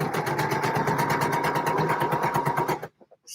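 A sewing machine stitching trouser inseams chatters in a fast, even rhythm for nearly three seconds, then stops abruptly, leaving a few faint clicks in near silence.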